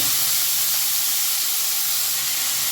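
Soaked masoor lentils frying in a pan, giving a steady, even sizzling hiss that holds close and constant throughout, with no talk over it.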